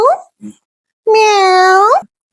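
A person imitates a cat's meow during a festive Onam family game, giving one long drawn-out vocal meow after a couple of short voiced sounds, close and loud.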